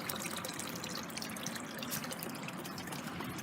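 Water in an outdoor garden pond being stirred up, a steady close sloshing and trickling wash with scattered drips, continuous and fairly even for several seconds with no talking.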